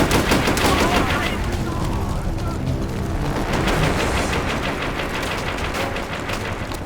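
Gunfire in Call of Duty: World at War, with dense rapid shots and machine-gun bursts in a loud, continuous battle din while a voice talks over it.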